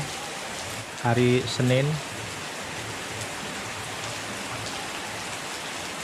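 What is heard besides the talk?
morning rain falling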